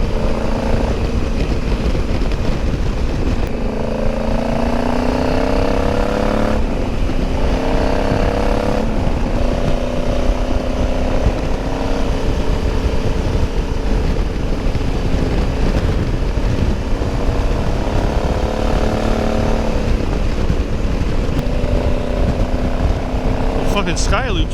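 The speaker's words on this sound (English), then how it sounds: "we're following Mikey, got Glenn behind it, the Ducati." Touring motorcycles including a Ducati riding in a group through the Scottish Highlands, a steady engine drone with pitch sweeps as gears change, under wind roar, with a rider's voice speaking over it.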